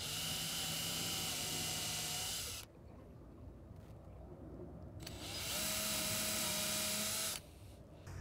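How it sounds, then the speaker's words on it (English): A power drill whines steadily in two bursts, pausing briefly between them, as it pilot-drills holes into wood up close while cabinet doors are made. "I'm actually going to pilot drill these because I do not want to split this wood."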